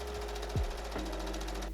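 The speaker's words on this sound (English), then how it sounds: "I'm going to pin them and sew them right across the bottom." A sewing machine stitches across the bottom edge of a fabric collar, giving a quiet, steady run of rapid needle beats with a few low knocks. No one speaks.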